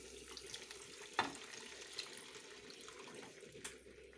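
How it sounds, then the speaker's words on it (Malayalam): Tamarind juice is poured into a pan of curry leaves for sweet tamarind-ginger pickle, a faint, soft watery trickle and splash with a small click near the start, quiet overall and without speech. "ഇനി പുളിങ്ങ ജ്യൂസ് ഒന്ന് ഒഴിച്ചെടുക്കാം"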